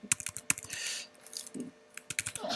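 Fingers typing an IP address on a computer keyboard, a close, quiet burst of quick key clicks with a short pause midway before the tapping resumes.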